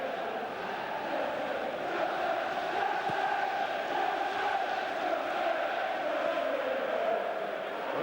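A football stadium crowd at Arsenal versus Manchester United in 1994/95 sends up a steady, broad roar that swells slightly midway and holds at a constant, fairly distant level throughout.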